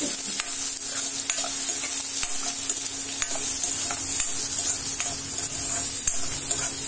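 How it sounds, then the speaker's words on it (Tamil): Onions sauté in a pan until brownish for a salna, giving a constant close sizzle. A spatula stirs and scrapes at regular intervals, with no voices. "வெங்காயத்தை நல்லா கொஞ்சம் வதக்கணும்னா நல்லா இருக்கும், ப்ரௌனிஷாக இருக்கும்."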